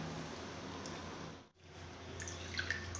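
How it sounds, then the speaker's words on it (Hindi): Bitter water drips from squeezed bitter gourds into a large vessel, a faint, scattered patter of small drops over a quiet background with a brief lull midway. "ये देखिए पानी निकल रहा है।"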